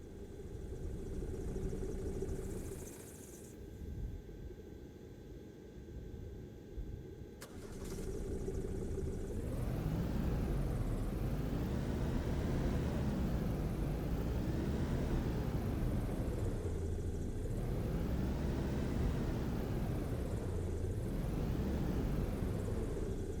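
An airport tug vehicle in the PC game AirportSim starts up and drives. A mid-pitched engine hums steadily, its pitch rising and falling as it moves, and the engine noise is fairly quiet.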